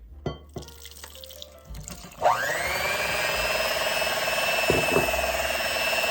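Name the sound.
water being poured into a bowl for box cake mix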